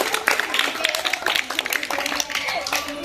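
Children at a village Independence Day gathering give a short round of clapping, quick irregular hand claps close by, with voices mixed in underneath.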